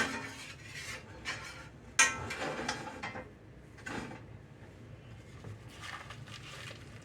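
Butter being mixed in a bowl for skillet tuna patties, heard as soft scraping and clinking of a utensil against the bowl, with one sharper knock partway through, steady and close.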